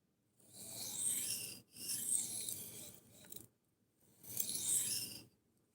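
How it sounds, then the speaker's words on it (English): Gentle knife-sharpening passes removing the burr, heard as three separate long scraping strokes with short silent gaps between them, close and soft, with no talking. "Nice and gentle passes as you're trying to remove the burr."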